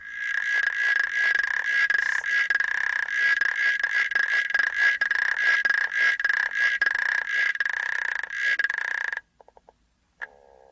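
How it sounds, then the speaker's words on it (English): Recorded call of an African clawed frog, an invasive aquatic frog: a rapid, steady train of dry clicking rattles like a wooden frog instrument, loud and continuous for about nine seconds, then a few faint clicks. "So this is the African clod frog,"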